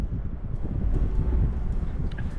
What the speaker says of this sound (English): Quite windy up here today, as you can hear, but well worth the climb up.